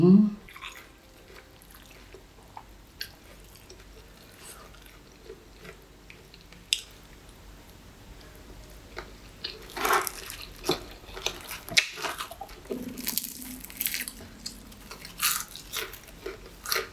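Someone eats hot sticky rice with som tam papaya salad made with fermented fish sauce, with close, intermittent biting, chewing and crunching that grows busier toward the end, between quiet stretches and some talking.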